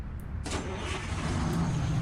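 A chipped Kenworth 521 truck engine in American Truck Simulator starts and settles into a loud, deep, rumbling idle, heard close and without talk.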